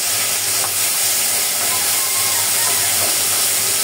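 Steady, loud sizzling and hissing of taro frying in hot oil in a pan, continuous throughout with no voices.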